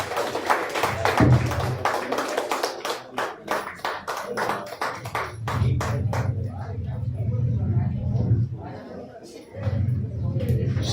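An audience at the Shram Ratna Awards ceremony for unorganised sector workers claps in dense, rapid bursts, fairly close, rising and fading in waves while a voice keeps speaking over the applause.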